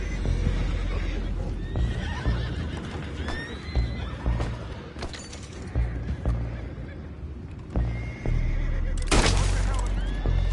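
Horses neigh and whinny repeatedly in a video game scene near a ship's anchor, with hoof clip-clops and busy background action; a loud whinny stands out near the end.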